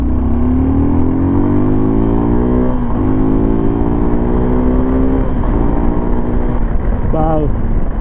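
A 2025 Suzuki V-Strom SX 250 motorcycle accelerates hard, its engine note climbing steadily through several rising pulls with brief dips at each gear change, close and loud over constant wind rush.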